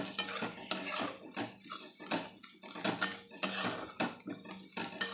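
Egg chutney with onion, red chili powder, salt and fresh coriander stir-fried in a pan, a spoon scraping and clinking against the metal in quick, repeated strokes, close and fairly loud with no talking.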